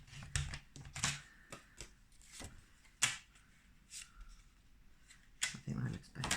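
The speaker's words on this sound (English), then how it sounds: "And if I don't like it, I'll cut it again." Crisp close snips and slicing strokes as designer series paper card stock is trimmed by an inch, several sharp cuts scattered between quiet handling sounds while a person speaks.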